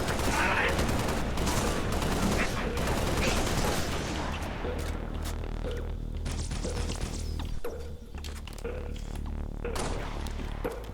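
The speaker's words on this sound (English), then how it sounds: "We're taking controlled burst shots." Gunfire in the Halo: Reach campaign on Legendary, heard as loud repeated bursts and rattling shots with thumps and crashes, dense at first and then sparser, with a voice talking over the fight.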